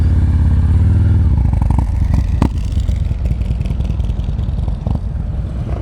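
A motorcycle idles close by, then pulls away at slow practice speed as the clutch is let out. The engine gives a steady low rumble with faint clatter and no hard revving.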